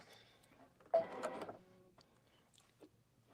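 An embroidery machine stitching a quilted fabric piece, with a short burst of rapid mechanical needle chatter followed by quieter whirs and clicks close by.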